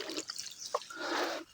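Water from two or three sardine cans poured straight onto the soil near the base of a flowering plant, a faint close splash and trickle in short bursts, with no talk.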